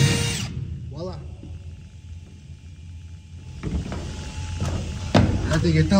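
An electric drill runs in short bursts while drilling out rivets on a semi-trailer corner radius, close and fairly loud with clunks of handling between runs.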